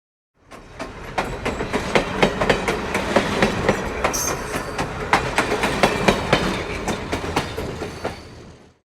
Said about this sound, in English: The L train was passing by above.